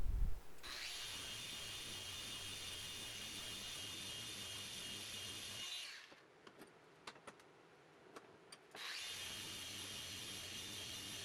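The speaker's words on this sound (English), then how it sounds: "I'm going to stick it in the vise and I'm going to give it a quick sand and just tidy it up." Hand sanding a zero-clearance throat plate for a Kobalt table saw, clamped in a vise: a steady, close scratchy rasp runs for about five seconds, pauses with a few light knocks, then resumes just as loud.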